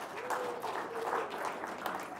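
Faint audience clapping in a meeting room, a soft scattered patter that continues evenly at a distance with no voice over it.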